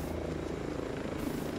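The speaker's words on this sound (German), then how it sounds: "Mensch, Heli, hör doch mal auf," A helicopter in the video game Ghost Recon Breakpoint gives a steady, faint, low rotor drone throughout, with no talk over it.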